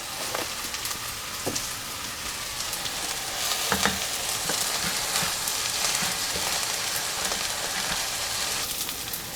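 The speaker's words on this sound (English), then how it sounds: "And give it a stir." Dense, rain-like sizzling fills a hot pan as apple pie spice and ground ginger are stirred in, a few faint spoon scrapes surfacing through the constant crackle.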